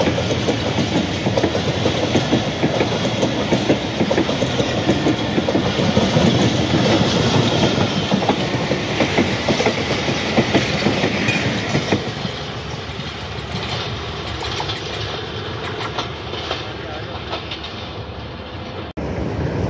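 An express train rumbles past Chaklala Railway Station in Pakistan at close range, loud and steady with rhythmic clattering of wheels on rails, the roar easing slightly toward the end.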